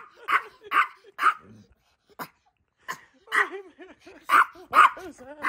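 A dog barks in quick bursts, a few sharp barks, a pause, then a longer run of yips and whiny barks, close and fairly loud.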